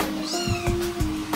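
Two quarrelling female house cats trade drawn-out, wavering meows and yowls at close range, a tense caterwauling exchange lasting just over a second.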